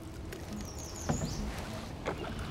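Canoe paddling on the Humber River: soft water swishes and drips from paddle strokes, with a couple of brief splashes, quiet and close over faint outdoor background.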